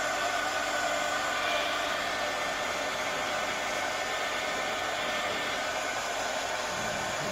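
A hair dryer blows continuously at close range to dry decorated tea bags, giving a steady, loud whooshing hiss with no pauses.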